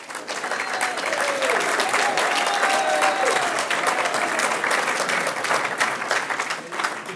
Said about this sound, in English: I'm getting to like the clapping.